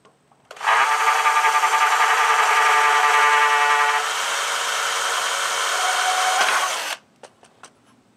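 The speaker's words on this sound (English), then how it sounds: "We're going to pre-drill a little hole here." A power drill pre-drilling a pilot hole in wood on a homebuilt deer carrier at a truck tailgate: one loud, steady whine lasting about six seconds that eases slightly partway through, then stops, followed by a few faint clicks.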